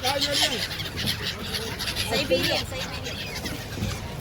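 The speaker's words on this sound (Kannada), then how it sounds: "ಸೈಬೀರಿಯನ್ ಬರ್ಡ್ಸು ಎಲ್ಲ ಹತ್ರ ಬರ್ತಾ ಇದೆ" Siberian migratory birds honk and call in a noisy flock close by, mixed with people talking over the din.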